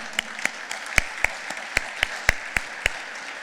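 Sparse, isolated claps from a few people at an education foundation fundraising dinner, about ten sharp separate hand claps spaced irregularly over a quiet room.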